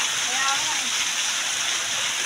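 Mountain spring water pours down in a steady, close hiss of flowing and splashing that holds the same loudness throughout.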